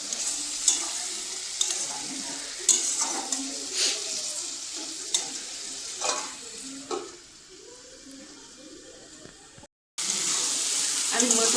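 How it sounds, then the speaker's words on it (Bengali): Spice paste frying in a pan with stirring scrapes and clinks, then water poured in, a rushing hiss before a short silence and a renewed strong sizzle; close and fairly loud. "আমি একটু জল দেবো, মশলাটাকে আবার চাপা দিয়ে দেবো।"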